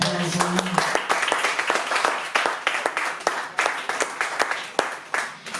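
A concert audience claps steadily near and loud for several seconds at a concert in Nice, a brief voice heard at the start.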